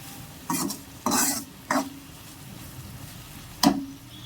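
A spoon stirs tomatoes into a curry in a pan, giving four short scraping strokes, near and fairly quiet, with soft sizzling between them.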